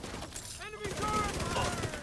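An enemy turret in a video game fires a rapid burst of automatic gunfire, loud and close, with a voice briefly audible around it.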